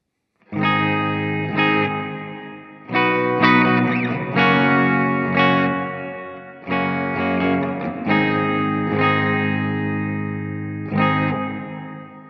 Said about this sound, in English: And this is what the concert reverb sounds like.